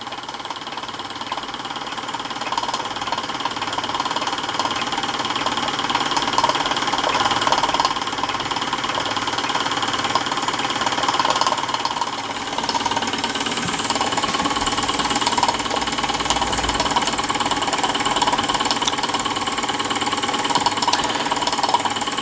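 A miniature steam engine runs steadily and drives a small generator and a GF-01 model workshop through pulleys. It makes a continuous close mechanical whir and clatter with fine rapid ticking, and no voices are heard.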